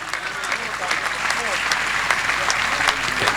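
A church congregation claps in sustained, dense applause at moderate loudness, steady throughout with scattered sharper claps and faint voices mixed in.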